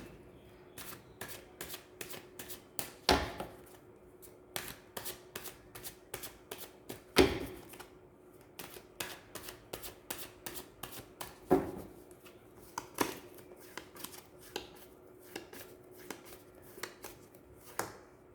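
Tarot cards being shuffled in repeated bursts of riffling and soft slaps, close and crisp against a quiet background, with a few sharper thumps as the deck is squared, and no talk.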